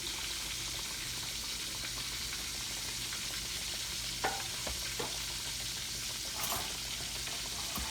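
Chicken pieces fry in a pan for a crispy zinger burger, giving a steady, dense sizzle throughout with a few brief sharper crackles and spatters rising above it.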